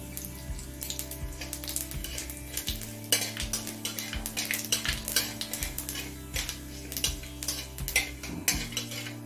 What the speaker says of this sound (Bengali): এখন ফোড়নে দিচ্ছি 1/2 চামচ কালো জিরে